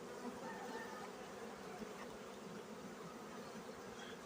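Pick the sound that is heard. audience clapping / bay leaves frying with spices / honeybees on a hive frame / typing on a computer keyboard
honeybees on a hive frame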